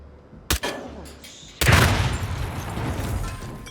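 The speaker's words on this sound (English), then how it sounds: "do we just blow up the propane tank?" A sharp blast followed by a louder, booming propane tank explosion in the Hitman game, set in Hantu Port, its rumbling roar lingering and slowly decaying.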